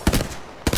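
Gunfire in Apex Legends: two short bursts of rapid automatic fire, close and loud, separated by a brief gap of near silence.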